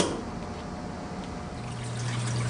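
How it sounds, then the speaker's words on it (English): Water trickles and fills the trough of a Manitowoc UY-0140A NEO undercounter ice machine during its cleaning cycle, a soft, steady, close liquid flow that grows slightly louder near the end. "It'll take a moment for the water trough to fill."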